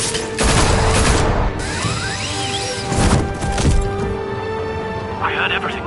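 Gunfire in Batman: The Telltale Series, a few loud sharp cracks and crashing impacts under voices and game sound.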